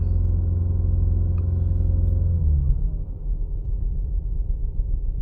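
A misfiring 2012 Audi A4 2.0T engine runs steadily at raised revs with a deep, uneven rumble, then drops back toward a rougher, lower idle; no talking.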